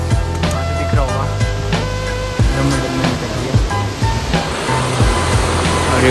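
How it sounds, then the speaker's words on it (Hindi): Water rushes at Jogini waterfall near Manali, a steady, broad roar heard from a viewpoint, with a low mechanical hum mixed in underneath. "जोगनी वाटरफॉल, वहाँ से दिख रहा होगा"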